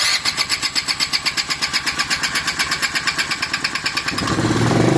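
A small petrol engine with an untuned carburettor chugs and putters in rapid rhythmic pulses, then catches and revs up into a steadier drone near the end.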